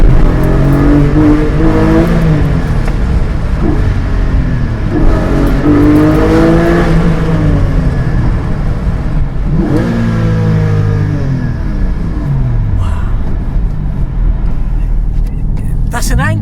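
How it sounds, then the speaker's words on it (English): Porsche Cayman 718 GT4 engine revving hard inside a tunnel in London, loud rising and falling howls through repeated gear changes that echo off the walls, heard from the cabin as someone talks over it. "That's an angry engine, that is."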